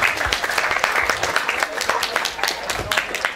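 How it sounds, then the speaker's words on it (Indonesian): A crowd at a vocational school's eighth anniversary celebration in Badung, Bali claps for the school, a brisk dense burst of applause with sharp individual claps standing out, fairly loud and close. "Tepuk tangan untuk sekolah ini"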